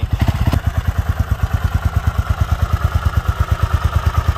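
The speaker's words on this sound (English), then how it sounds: "Beautiful Honda Ascot FT500." A 1982 Honda FT500 Ascot single-cylinder motorcycle idles nearby with a steady, rhythmic thumping beat, loud and even, after a brief blip of revving at the start.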